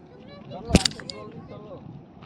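Steady broadband engine and hull noise fills the cabin of the Kalighat passenger boat in the Andaman Islands, a constant loud drone with one sharp knock partway through and a voice over it.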